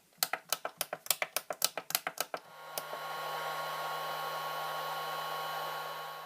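A Venom Pro-2 charger runs with a loud, steady whirring hum. A quick series of sharp taps or clicks comes before it.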